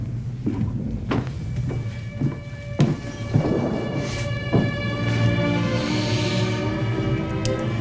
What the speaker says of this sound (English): One hell of a storm out there.